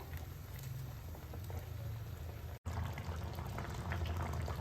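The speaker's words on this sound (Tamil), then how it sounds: "குழம்பு எல்லாமே வந்து உருண்டையோடு சேர்த்து நல்லா கொதிச்சு வரட்டும்." A pot of paruppu urundai kulambu, a Tamil lentil ball curry, boils steadily with dense, continuous bubbling and popping, close and fairly quiet, with a brief dropout midway.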